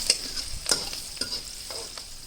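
Green chillies sizzle in a hot pan while being stirred for a Punjabi sarson ka saag, a continuous bright crackle broken by several scraping strokes of the spoon, close and without talking.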